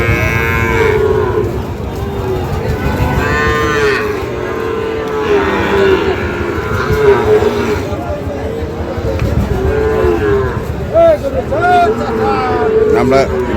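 Sahiwal bull calves at a cattle market in Dinajpur low repeatedly, near and loud, over constant crowd babble and nearby talking.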